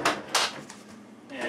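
A storage drawer beneath a small desk inside an RV slides open with a couple of quick, close scraping knocks, followed by quieter handling sounds.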